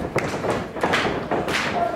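Several dull thuds of a wrestler's body hitting the mat from a headlock takeover at an indoor wrestling event, soft, muffled impacts spaced across a couple of seconds.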